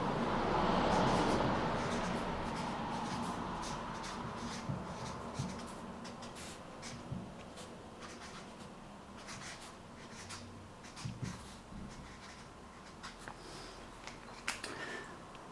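Pen writing on paper while working a math problem, soft close scratching with small taps under a quiet room tone and no talk.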